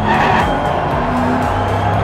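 Diecast miniature race cars running down a track in a racing tournament, a steady loud rolling rumble and whir that fills the whole moment without a break.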